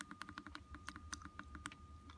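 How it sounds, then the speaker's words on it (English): Quick, uneven keystrokes clatter on a computer keyboard, a dense run of close, crisp clicks with no talking. "I should pay attention when I'm typing."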